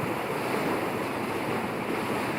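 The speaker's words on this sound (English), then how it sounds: "The waves breaking on them." Waves break on sandbanks in the German Bight, a steady, even wash of surf heard from a boat in the channel, with no voices.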